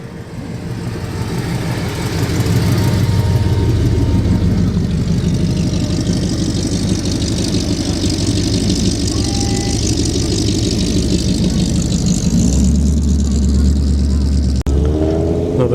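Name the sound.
Ford pickup truck, presumably V8 powered, engine running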